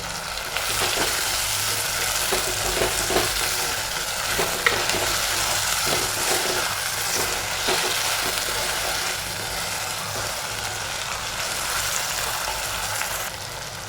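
Chopped tomato and curry leaves fry in a hot pan with a steady, dense sizzle throughout, punctuated by occasional stirring scrapes, and no voices.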